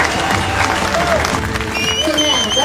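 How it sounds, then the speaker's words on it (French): Crowd applauding the winners of a 48-hour Azimut sailing race, a dense, steady wash of clapping mixed with cheering voices and chatter throughout. "Tonnerre d'applaudissements pour les vainqueurs de ces 48 heures Azimut, Jérémy Veillou et Franck Carras."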